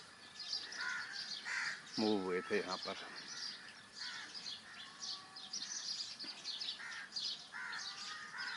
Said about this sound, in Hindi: ये जो चिड़ियों की आपको आवाज़ें आ रही हैं, कौवों की आवाज़ें आ रही हैं